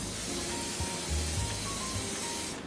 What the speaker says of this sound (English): And then you're gonna add some just like cooking canola oil spray,